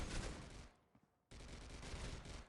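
MP5 submachine gun fire in the mobile shooter game Critical Ops, a dense rapid burst, a sudden near-silent gap of about half a second, then another sustained burst, loud and close.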